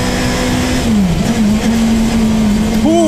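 A car engine revving hard and pulling through the gears, climbing in pitch, dipping at a shift and climbing again, loud and close inside the cabin, with faint voices under it.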